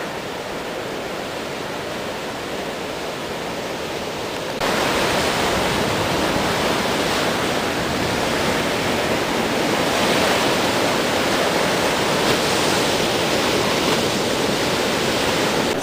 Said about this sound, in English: There it is. The Pacific Ocean,